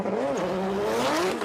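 A drift car on a circuit at Drift Masters Spain accelerating hard, the engine note climbing and wavering as the tires squeal, loud and continuous for a second and a half.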